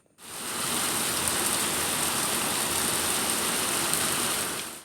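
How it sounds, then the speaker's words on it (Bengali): Steady, dense rain pouring down, a constant even hiss with no breaks, fairly loud and close. "এই বৃষ্টির আওয়াজ শুনতে কিন্তু বেশ ভালোই লাগে"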